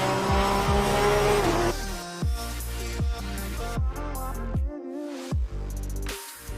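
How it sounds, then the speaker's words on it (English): Porsche 911 GT3 Cup car lapping Donington Park in a racing sim, engine screaming at high revs and then dropping through a rapid series of downshifts with blips, loud and close, no talk. "Beautiful lap there around Donington Park in the Porsche 911 GT3 Cup car, an iconic car"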